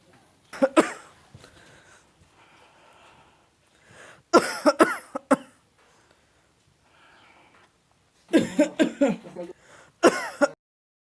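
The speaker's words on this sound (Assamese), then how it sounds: "কিবা হৈছে কাহি আছে অবিৰাম" Repeated harsh coughing comes in three loud clusters of several coughs each, with quieter throat sounds in between. The cougher is close by.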